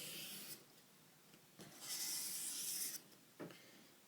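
Knife blade rubbed on 800 grit sandpaper, giving a few separate rasping strokes, one long hissy scrape in the middle and shorter swipes around it, close and fairly quiet.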